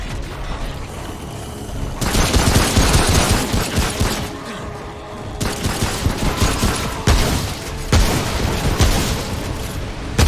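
Heavy machine gun fire from an enemy in the video game Remnant: From the Ashes, loud sustained bursts of rapid shots with short pauses between volleys, booming and close.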